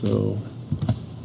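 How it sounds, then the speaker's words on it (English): Quick tapping on a computer keyboard while numbers are typed out, a few brief close clicks following a short stretch of someone talking. "I'll type them out."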